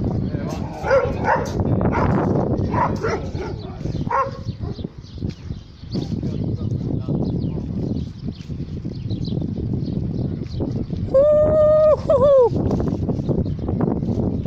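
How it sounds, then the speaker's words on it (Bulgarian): Dogs barking outdoors in repeated bursts of sharp barks and yips, with a higher whimpering whine near the end, mixed with people talking and other background activity. "Тук само кучета на лаят днеска"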